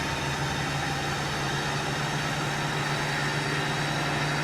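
An IVECO Daily 70C18 engine in a Morelo Palace 85 L motorhome drones steadily while driving in a high gear at around 90 km/h, a constant low hum under broadband road and wind noise with no talk.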